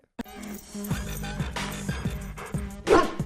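A dog whimpers and yips in a film scene, with short bursts and whines amid soft background sounds, ending in a louder whining cry.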